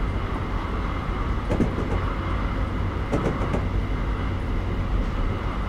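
A coasting train in the Train Simulator game rumbles along the rails with a steady low drone, and a few brief clanking bursts from the wheels and cars break through it, with no voices.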